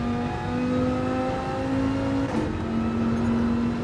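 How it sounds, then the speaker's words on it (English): Game car accelerating out of a corner on the Sardegna road track in a racing game, a steady close engine drone that rises in pitch with a brief dip midway, no talk. "As soon as you see that exit marker, accelerate."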